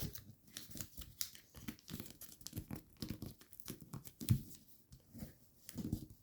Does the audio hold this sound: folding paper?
yes